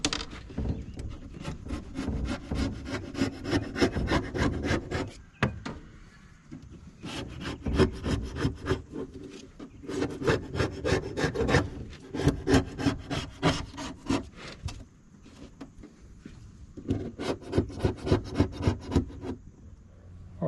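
Old silicone is scraped off the hull of a Com-Pac 16 sailboat, close rasping strokes in repeated bursts with short pauses between them, no talking.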